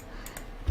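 A computer keyboard shortcut, Ctrl+R, is typed while modeling in Blender 2.79, giving a few quick soft key clicks in under a second, the last press slightly heavier, with no talking.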